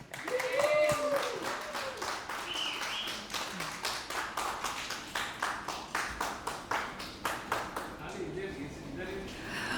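An audience applauds a keynote speaker at a life skills talk, with dense clapping throughout that thins into distinct rhythmic individual claps toward the end, over room noise and some faint voices.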